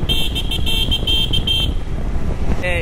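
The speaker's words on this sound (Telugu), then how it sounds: "ఈ హార్న్ ఏమో మా వాళ్ళు అనేసి సిగ్నేచర్." A vehicle horn honks in a quick series of short bursts as a group signal at a puja festival in Kharagpur, West Bengal, over close engine and traffic rumble, ending with a final brief toot.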